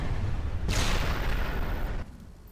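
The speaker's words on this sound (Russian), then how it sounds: "Ну, также уходим на безопасную дистанцию и взрываем." A C4 charge detonates in the video game Sniper: Ghost Warrior 2, a sudden loud blast erupting over low rumble and fading into a rolling, crackling roar before cutting off, with no voices.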